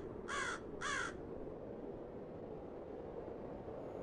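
A crow gives two harsh caws in quick succession, loud and close, over a steady low outdoor rumble that continues alone afterward.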